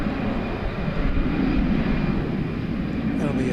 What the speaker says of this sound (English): That'll be a 777-200, one of 6 daily American Airlines flights to London.